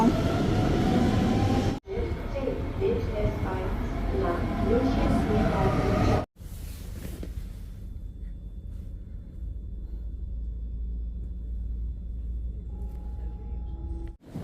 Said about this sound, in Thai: รถไฟที่เราจะไปก็คืออันนี้ทุกคน